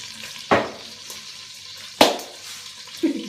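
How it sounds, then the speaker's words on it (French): A pork roast browns in a hot pan, giving a steady low sizzle with two sharp bursts of spatter and crackle and a brief flare near the end, close and moderately loud. "on va faire griller de ce côté"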